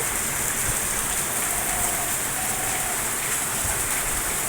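Heavy rain pours down outdoors in a dense, unbroken roar of drops striking surfaces, loud and constant from start to finish with no voices.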